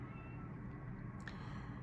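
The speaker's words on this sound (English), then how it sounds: "It's funny, Lucky, my cat Lucky, is meowing at the door." A pet cat named Lucky meows at a door indoors, heard as a faint, brief meow over steady low room hum.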